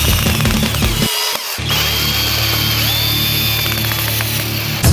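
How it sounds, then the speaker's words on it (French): A power drill drives screws into a cardboard pool frame, its steady motor whine running loud and close almost throughout, with one brief pause near the start before it spins up again. "Je la tiens d'un bras pendant que je visse."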